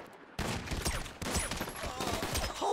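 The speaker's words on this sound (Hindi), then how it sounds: "ये रहा शॉटगन चला रहा है कोई" Shotgun blasts ring out in the video game GTA 5, a rapid cluster of sharp bursts in two bunches separated by a short gap, moderately loud with no talk.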